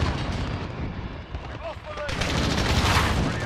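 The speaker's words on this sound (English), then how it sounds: "we're taking some fire" Gunfire and explosions in the video game Call of Duty: Modern Warfare come as dense, booming bursts under players talking, growing into a louder, sustained barrage toward the end.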